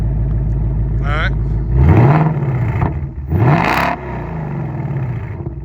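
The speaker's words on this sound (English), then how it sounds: "the factory active exhaust is a pretty good sounding exhaust" A 2024 Ford Mustang with factory active exhaust and an MRT H-pipe, revved twice: two sharp, close blips that rise and fall over a rumbling idle.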